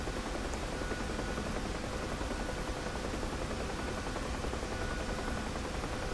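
Huey helicopter in DCS during auto-rotation, a steady, fairly faint rotor and airframe rumble that holds even and unbroken throughout, with no voices.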